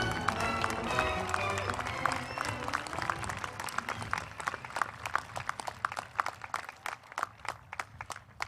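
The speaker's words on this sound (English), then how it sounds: "Let's have a big round of applause for our graduate students who are graduating today" Graduation ceremony audience applauding graduating students, a dense round of clapping that thins into scattered individual claps toward the end, with faint voices.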